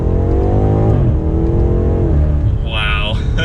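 A 2022 BMW M8 Competition Gran Coupe accelerating hard in Sport Plus mode, heard from inside: a loud engine roar rising through gears with pitch climbs and a shift, ending in a short whine.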